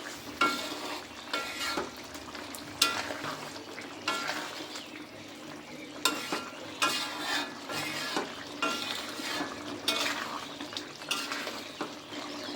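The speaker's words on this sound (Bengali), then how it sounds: "ভালো করে নেড়ে চেড়ে মিশিয়ে নেব।" Biget fish being stirred and mixed in a pan, with repeated scraping strokes of a utensil and soft clinks against the metal over a low sizzle, close and rhythmic, no voices.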